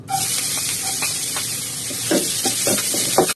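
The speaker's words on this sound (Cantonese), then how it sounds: "我哋先將啲薑米同埋葱頭米咧放落去先" Minced ginger and shallots fry over low heat in a wok, a steady close sizzling hiss with a few soft stirring scrapes and crackles, no talking.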